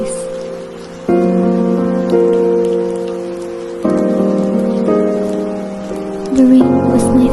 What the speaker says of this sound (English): The rain was my friend, a soft, whispering melody